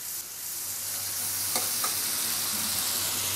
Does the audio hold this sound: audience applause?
no